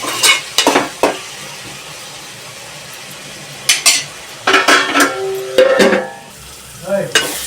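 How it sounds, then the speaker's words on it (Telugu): Tomatoes cooking with salt in a pan are stirred, with loud metal spoon scrapes and clanks against the pan coming in bursts over a low background sizzle, close and without speech. "టమాటాలు బాగా మగ్గాలంటే కొంచెం ఉప్పు వేసుకుంటే తొందరగా మగ్గిపోతుందండి"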